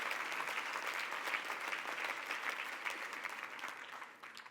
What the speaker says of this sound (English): So give yourself a round of applause for showing up and being here and committing.